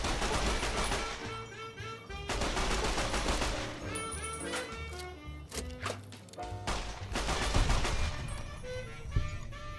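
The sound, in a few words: gunfire from a sniper or magnum in Fallout: New Vegas video game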